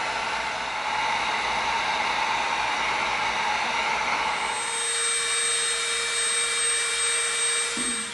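A heat gun blows steadily on the beveled edge of EVA foam for a scout trooper blaster pistol, a continuous close airy hiss with a fan whine that shifts tone partway through, no talking.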